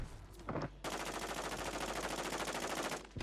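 Automatic gunfire from the video game Call of Duty Warzone rings out as a long, steady, rapid burst after a couple of short lead-in shots, loud and close, with no talk.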